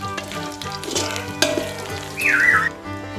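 Pork belly sizzles in hot oil in a pan, a busy crackling fry with a spatula scrape and a brief louder hiss near the end, close and alone.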